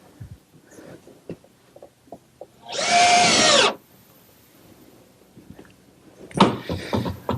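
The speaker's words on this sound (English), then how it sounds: "I'll just hold it in place with one screw." A power drill drives a screw into a wooden dove cote in one loud, close whir lasting about a second, with quiet workshop handling noises and light knocks before and after.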